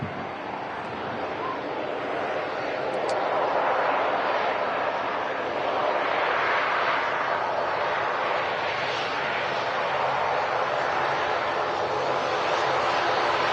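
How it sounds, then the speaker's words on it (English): Loganair ATR 72 turboprop at Manchester Airport, a steady broad engine roar that holds loud and even throughout, like an aircraft taxiing or passing close by. "Logan ATR 72."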